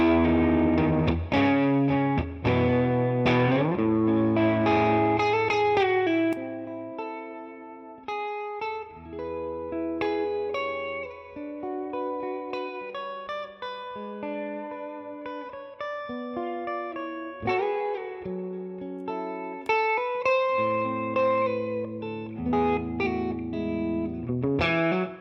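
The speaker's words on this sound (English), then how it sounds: "In my opinion, for the pick stuff, this guitar sounds a bit better to me." Fender Masterbuilt electric guitar picked on the middle pickup position, playing a run of chords and single-note lines with effects and light drive, loud and alone with no talking.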